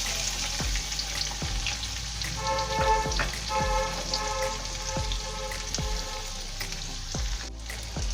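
Dried curry leaves and chopped onion sizzle steadily in a hot pan, a continuous crackling fry with a few sharp spoon taps against the pan, close and fairly loud, no talking.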